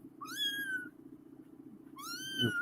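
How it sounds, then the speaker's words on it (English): A kitten gives two clear, close meows about a second and a half apart, each rising then sliding down, over a faint low background hum. "Kitty cat."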